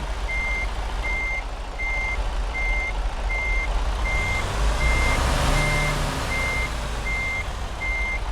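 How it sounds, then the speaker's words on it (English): A truck in American Truck Simulator, a game, gives off a regular series of reversing beeps over a steady low engine rumble, with a swell of air-like hiss partway through. "We're going to go ahead and fire up this truck and get ready to head on our way again."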